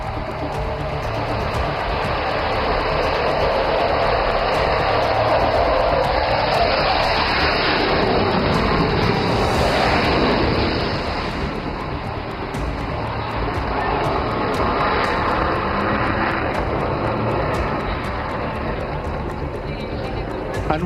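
Indian Air Force fighter jet passing overhead at an air display on an emergency landing strip, a loud sustained engine roar that swells to a peak near the middle and stays strong, with a commentator's voice over the public address.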